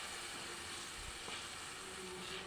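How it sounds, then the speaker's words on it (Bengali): Ground cumin and turmeric sautéing in a pan for a Bengali potato and pumpkin curry, giving a steady, even sizzle and crackle throughout with faint scraping, no voices. "জিরে গুঁড়ো দিয়ে দিলাম, এবার এটা কষিয়ে নেবো।"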